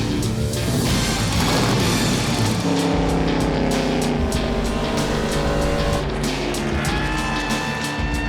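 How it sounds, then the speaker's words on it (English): A Ford race car running laps on a speedway track, its engine roaring loud and close throughout with shifting pitch and gear changes, no voices. "Driving that race car was such a rush."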